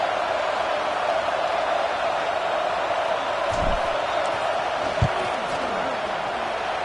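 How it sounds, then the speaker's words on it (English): A simulated stadium crowd in a football video game roars steadily during a field goal attempt, a constant loud wash of noise with a couple of brief thuds and a commentator's voice over it. "This crowd trying to do its part to get inside the kicker's head."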